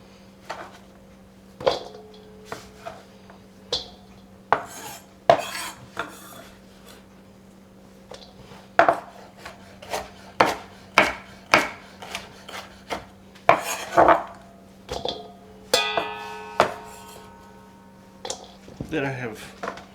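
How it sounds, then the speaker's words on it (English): A knife slicing garlic on a wooden board, a series of crisp, irregular cuts and taps close by, with a steady low hum underneath and no talking. "So I slice the garlic."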